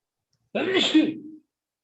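A single sharp, close sneeze bursts out of silence, brief and forceful, then cuts off.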